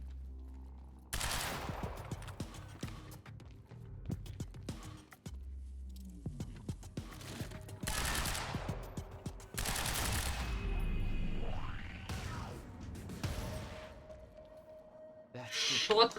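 Shotgun blasts from the Quantum Break video game, with a series of sharp, loud bursts spread across the clip alongside other game sounds, and a gamer talking at times.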